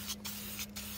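A spray can of dye hisses in two short close bursts onto a car's vinyl and cloth seat, with a steady low hum underneath and no talking.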